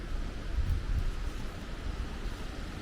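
Steady gusting wind at a Blue Ridge Mountains overlook in fall, a broad low rumble buffeting the microphone throughout with no speech.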